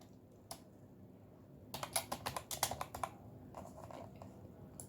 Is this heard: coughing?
no